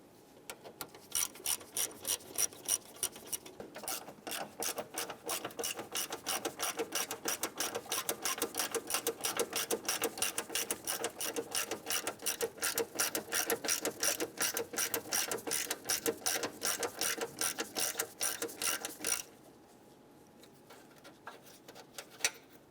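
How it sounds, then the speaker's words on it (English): A ratchet loosens a 10mm bolt on the radiator of a 1995-2001 Ford Explorer, making steady close clicking strokes for about nineteen seconds before falling quiet. "on the top side here, we have a 10mm bolt. I'm going to loosen and remove this"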